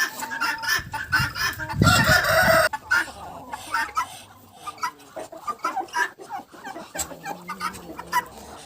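Turkeys, a hen and a tom, call on a Ukrainian village farm, with irregular bursts of clucking and gobbling close by and one louder flurry of noise early on.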